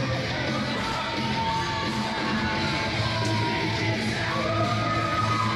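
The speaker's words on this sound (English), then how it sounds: "with a very loud crowd here" A very loud crowd at a match yells, whoops and cheers continuously, a dense roar of many voices with individual shouts rising above it.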